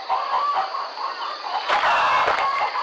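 Chickens cluck busily while being fed, a steady run of close, overlapping clucks and squawks with a few louder bursts near the end.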